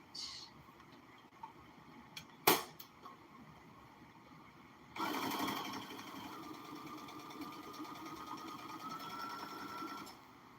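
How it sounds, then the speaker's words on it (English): A sewing machine runs steadily through a straight stitch across the opening of a circle skirt, a continuous close whirring that starts suddenly after a quiet stretch with a sharp click and continues evenly to the end. "sew across where your opening is, just a straight stitch"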